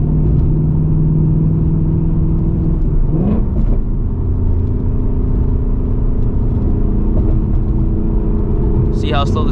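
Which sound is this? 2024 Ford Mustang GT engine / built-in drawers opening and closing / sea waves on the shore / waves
2024 Ford Mustang GT engine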